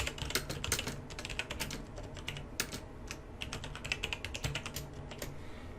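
Fingers tap out a message on a computer keyboard in a steady, close flurry of light key clicks, quiet and uninterrupted, with no voices.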